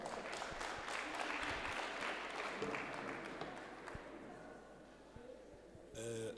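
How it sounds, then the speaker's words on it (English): Applause from a crowd fills the room, then gradually fades, with a few scattered claps and a brief burst of noise at the end. "Can we have a round of applause as he comes?"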